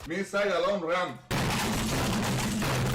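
Counter-Strike video game gunfire breaks out after a brief spoken moment, then continues as a loud, steady stream of rapid shots and crackling bursts.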